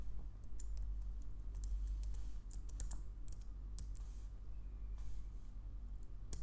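Scattered clicks of typing on a computer keyboard while entering an app package name, irregular light keystrokes close by over a steady low background hum, no talking.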